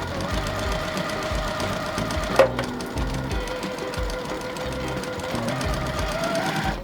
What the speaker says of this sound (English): Take these over to the sewing machine and get this sewed together.